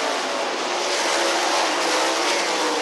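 World of Outlaws sprint cars racing at Volusia Speedway, a dense, loud, continuous engine roar from several cars, steady throughout with no voices.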